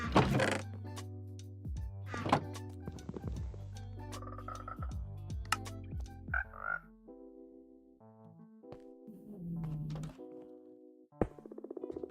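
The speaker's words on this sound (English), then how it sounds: "I've got frogs everywhere still." Frogs croak over and over in a single-player village game world, each croak a low, hollow, tonal call. They come in uneven bursts, some near and some softer, with no talk over them.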